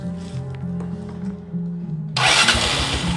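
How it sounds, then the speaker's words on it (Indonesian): Yamaha Mio scooter with a manual-start fault, after repair, fired up on its electric starter: a low cranking hum, then the engine catching at about two seconds and running loud and near with a steady mid-pitched idle. "tinggal kita tes starternya ya."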